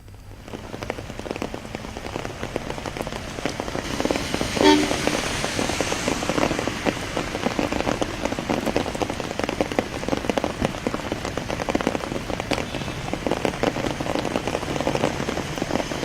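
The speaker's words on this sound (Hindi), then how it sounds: "देश की राजधानी दिल्ली में आज सुबह से हो रही झमाझम बारिश" Heavy rain pours down in Delhi, a dense constant patter of drops on surfaces with faint distant traffic beneath and no talking.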